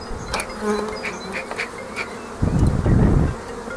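Honey bees buzzing close by during a hive transfer, a steady droning hum that swells louder near the end, with a few faint clicks.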